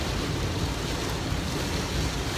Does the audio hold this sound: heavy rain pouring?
yes